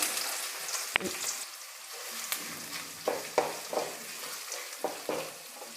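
Finely chopped onion frying in oil with a bay leaf for semolina vegetable biryani, a soft continuous sizzle broken by several sharp stirring scrapes and clinks, no talking.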